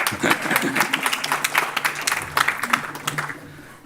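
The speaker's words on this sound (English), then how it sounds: "You can clap for that too." Short burst of audience clapping at a school board meeting, scattered hands in a moderately sized room, uneven and thinning toward the end, with some voices mixed in.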